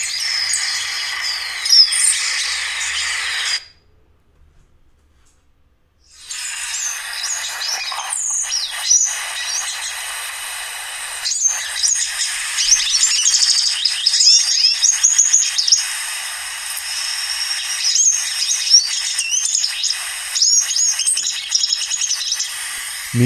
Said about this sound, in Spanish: Seguimos con Andean siskin, Spinus spinescens.